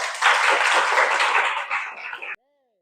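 Children clap and cheer in a classroom lesson on Islamic prayer. The clapping is loud, dense and close, runs for over two seconds, and then cuts off sharply into silence.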